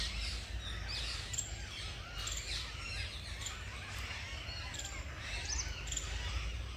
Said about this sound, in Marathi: झाडावरच्या पक्ष्यांचा कलकलाटच ऐकू येतोय का?